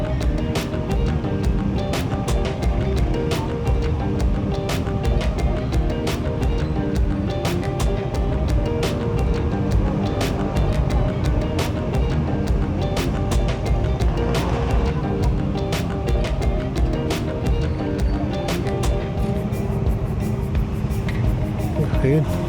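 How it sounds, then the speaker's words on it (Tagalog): Heavy road traffic around a moving vehicle gives a steady engine and road rumble throughout, with a voice talking over it at times. "Ayun, grabe traffic."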